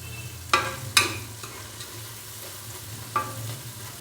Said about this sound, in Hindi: अदरक और लहसुन के पेस्ट को हल्का सा फ्राई कर लेंगे तकरीबन 30 से 35 सेकंड के लिए